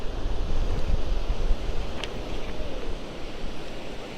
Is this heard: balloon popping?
no